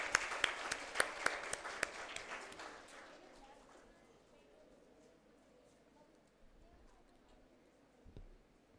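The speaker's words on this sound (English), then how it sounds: "Have a big round of applause" Audience applause at a national conference on building Viksit Bharat 2047, a burst of dense clapping over the first three seconds that fades into quiet room tone, with a brief faint noise near the end.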